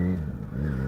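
Yamaha XJ600 motorcycle engine revving through a gear change, a steady harmonic drone with a brief dip in pitch mid-shift before rising again, close and loud with no talk.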